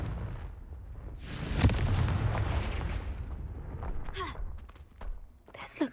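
A Confringo blasting spell from the video game Hogwarts Legacy goes off in a loud, sudden burst. A rumbling, noisy decay follows, and a few brief whooshing tones come near the end.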